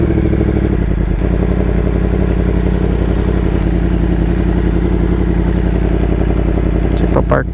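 A Yamaha MT-10 SP motorcycle idles loudly and close by while being backed into a parking spot, its engine clattering steadily throughout, with light knocks and shuffling near the end.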